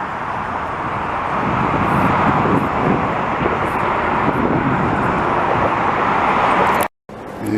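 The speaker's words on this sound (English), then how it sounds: "the sound of a vintage 737 when I hear it" A vintage Boeing 737 airliner passing overhead during plane spotting in Montreal, a broad, loud roar of jet noise that holds steady, then cuts off abruptly near the end.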